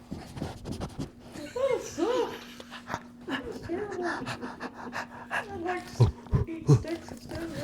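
A dog pants close to the microphone, giving quick breathy huffs and wet mouth sounds as it licks at the mic. People talk intermittently over the sound.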